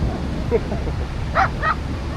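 On a small beach on the side of an island near Mazatlán, a dog gives a few short, close yips and barks, spaced apart in quick bursts.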